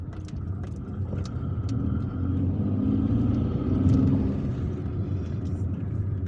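Car driving on a freshly repaved road in Algiers, a steady low rumble of tires and engine swelling slightly midway, continuous and close, with a few faint clicks and no talking.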